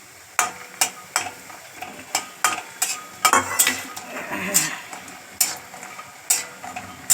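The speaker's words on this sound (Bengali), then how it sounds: "বড়িটাকে আগে ভাজি এই বড়িটাকে ভেজে নিই" Bori, lentil dumplings, fry in a pan in a home kitchen with a soft sizzle under repeated sharp clinks and scrapes of a utensil stirring against the metal, close and steady.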